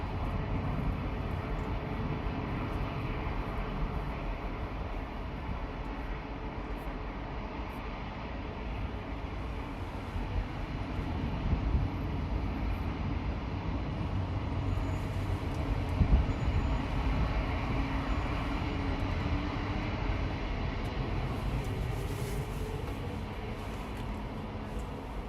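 An airliner taxis at Los Angeles International Airport, giving a long, steady low roar and rumble that stays constant and fairly distant, with slight swells partway through.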